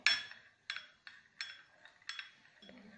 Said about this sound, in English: And now we will stir our solution.